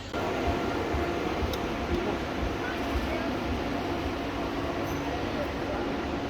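Steady low rumble and rattle inside a compartment of a moving train carriage in Central Europe, continuous and fairly loud, with no clear voices.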